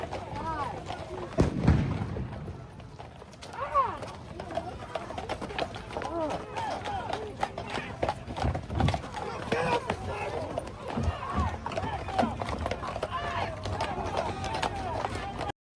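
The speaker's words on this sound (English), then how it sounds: "you can't touch a police horse" Police horses clip-clop over pavement at a street protest, hooves beating in a quick irregular patter under a noisy crowd, with people talking and shouting throughout.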